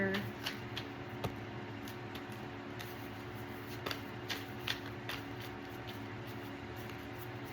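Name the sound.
shuffling a deck of cards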